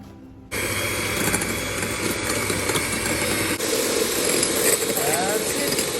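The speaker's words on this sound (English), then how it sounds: "I'm gonna whisk my egg white" Egg white is whisked for Welsh rarebit, a loud, steady whirring that starts abruptly after half a second and runs continuously, with one brief dip midway.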